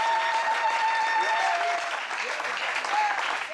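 A church congregation at the Tabernacle Rehoboth in Libreville, Gabon claps together in sustained, dense applause, loud and close, with a few voices and sung notes rising over the clapping.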